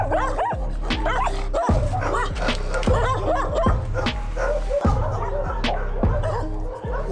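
Many dogs barking together, about fifty kept at one home, loud overlapping barks and yips in rapid repeated bursts, some whimpering among them, close by.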